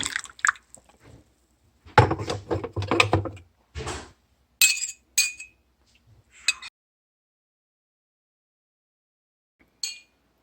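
A spoon clinks and scrapes inside a coffee cup while stirring, in several short bursts, with brief gaps of quiet and a final faint tap near the end.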